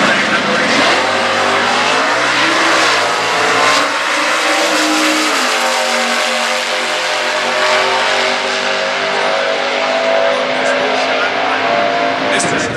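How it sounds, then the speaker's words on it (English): A 1971 Mustang with a 385 Series 429 cubic inch big block engine roars loudly in a stock class drag race at Indy, its pitch climbing steadily as it accelerates, with a commentator talking over it throughout. "the 1971 Mustang, that 385 Series 429 cubic inch big block, powering the heavy sports room Mustang operation"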